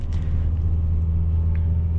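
A Mitsubishi Xpander Ultimate with a CVT, in D Sport mode, climbs a steep uphill slope, its engine giving a steady, heavy low drone heard from inside the cabin.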